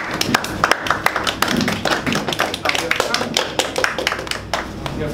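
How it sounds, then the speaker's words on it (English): Applause from a small group at a Toastmasters-style speech evaluation meeting: a few pairs of hands clapping in quick sharp bursts for several seconds, fairly close and uneven, with faint voices underneath. "give another round of applause"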